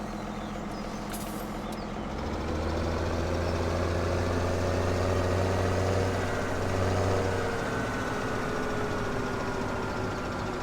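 A tractor engine idles in Farming Simulator 17, a steady low rumble with a deeper drone that rises and settles midway, carrying on alone without voices.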